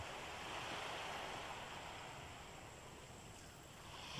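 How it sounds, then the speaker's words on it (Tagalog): Steady broadband wash of surf during a typhoon, continuous and fairly close, with a constant roar and no voices. "Abot na ng alon"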